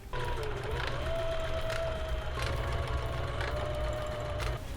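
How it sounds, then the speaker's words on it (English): A sewing machine stitching the side seams of a homemade rectangle-pattern dress, running in a steady, fast mechanical whir with soft rhythmic ticks, close and continuous with no talk. "I'm going to sew them together along the sides"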